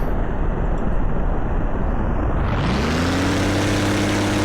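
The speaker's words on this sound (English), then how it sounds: "we got interesting motorboat sounds for a cruise ship" In a Vehicle Simulator game, a cruise ship's engine starts with a motorboat-like drone: a rising whine climbs and settles into a steady propeller hum over a constant wash of noise.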